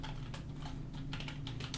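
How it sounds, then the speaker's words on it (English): Rapid clicking taps on a computer keyboard during coding, soft and close, running continuously under a low steady hum. "A lot of typing."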